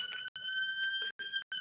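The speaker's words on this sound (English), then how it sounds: "Excuse the police sirens outside." Police sirens sound outside as a steady, high wailing tone with bright overtones, held at moderate level through short dropouts and heard alone without talk.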